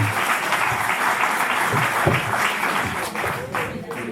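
A theatre audience breaks into sustained applause, a thick wash of many hands clapping steadily and loudly, with some voices blended in.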